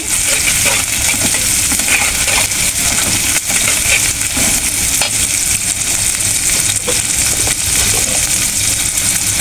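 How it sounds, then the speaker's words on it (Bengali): Chopped onions fry in hot oil in a kadai, a loud, close, continuous sizzle with faint stirring scrapes throughout and no talking. "আমি তেলটা দিয়ে দিচ্ছি কড়াইটা বসায় দিচ্ছি পেঁয়াজটা দিয়ে দিচ্ছি"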